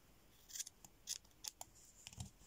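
Scissors snipping crochet yarn for an amigurumi owl, several quick quiet metallic snips in a loose rhythm, close and alone in a hushed room.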